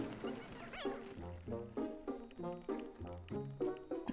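A dog barking in the Pikmin 4 video game inside a house, a series of short evenly spaced yips and barks, fairly quiet, with a bit of soft talk.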